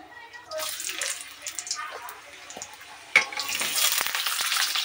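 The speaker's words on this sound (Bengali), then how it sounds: "পেঁয়াজটা বাদামি বাদামি করে ভেজে নেব।" Onions and whole spices frying in plenty of hot oil start as a rising hiss, then a sharp burst of louder crackling sizzle takes over after a clink partway through.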